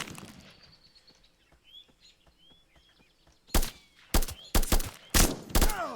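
Video game gunfire while weapons are being tested: quiet clicks and faint chirps, then a series of five or six loud, sharp shots in quick succession near the end.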